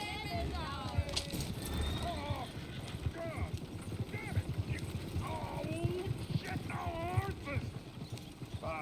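Horse hooves clip-clop steadily from a horse-drawn coach in Red Dead Redemption 2, close and busy, with a horse's whinny and voices talking throughout.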